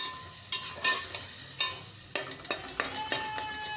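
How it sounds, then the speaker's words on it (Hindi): Spice masala of salt, chili, turmeric and cumin frying in a pan for urad dal, with a spoon scraping and stirring in irregular strokes over a light continuous sizzle, close by. "तो अब हम यहाँ पे इसका मसाला तैयार कर रहे हैं दाल के लिए।"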